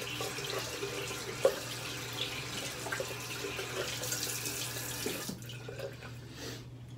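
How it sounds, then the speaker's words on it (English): A tap runs while hands are rinsed during a wet shave, a close splashing stream of water with small clinks, continuing for several seconds and then stopping, leaving quieter room tone. "Rinse my hands off."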